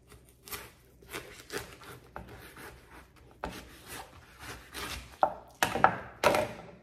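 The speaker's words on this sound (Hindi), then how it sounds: "तो इसको काट लेते हैं।" A kitchen knife cuts through food on a board while a drink is prepared, with irregular crisp chops and scrapes that grow louder and sharper toward the end, close up, with no talking.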